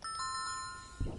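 A bell rings once in a video game, its clear overtones sustaining and slowly fading, followed by a brief soft thump near the end.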